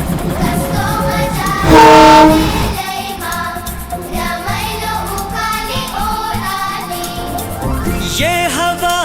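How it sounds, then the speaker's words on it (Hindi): A toy train passes close by, its horn sounding loudly with sustained tonal blasts near the start, over a steady rolling rumble mixed with music throughout. "तो गाइस लाइफ में पहली बार देख रहा हूँ टॉय ट्रेन अपने पास से गुजरते हुए।"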